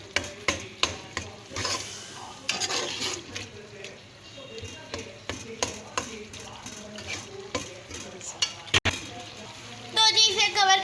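Tomato masala for aloo keema fries and is stirred in a pan, with scraping strokes and a steady sizzle over the whole stretch and a brief louder burst of sizzling near the end.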